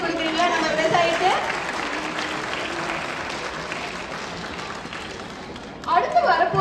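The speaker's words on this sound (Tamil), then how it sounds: "ஒரு பெரிய கைத்தட்டல் கொடுக்குறீங்களா நம்ம விவசாயிக்கு?" An audience at a Tamil Pongal celebration applauding a performer, a steady wash of clapping that fades out, with voices and chatter breaking in near the end.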